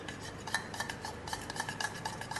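Lemon juice, salt and black pepper being stirred together for a grill marinade, a soft rhythmic scraping of a spoon against a bowl with small clinks, close and fairly quiet.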